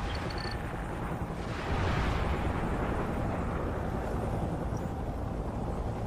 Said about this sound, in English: Missile loose.